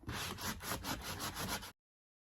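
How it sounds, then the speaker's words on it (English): Flaky paint being scraped from a wooden Louis XVI chair: about eight quick, rhythmic rasping strokes close up, loud and alone for under two seconds before silence. "if you're going to paint over another painted surface, get the flakes off"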